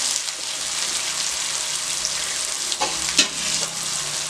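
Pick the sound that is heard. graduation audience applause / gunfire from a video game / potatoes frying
potatoes frying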